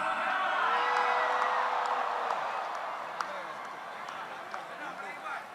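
A crowd of party delegates from Kedah cheers at an UMNO anniversary gathering, a broad, sustained roar of voices in a large venue with scattered whoops and claps, slowly easing off over several seconds.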